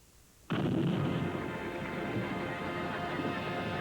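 A bomb blast erupts in a small town after a half-second of quiet, a sudden loud boom that rolls into a long, sustained rumble and crashing debris noise lasting several seconds.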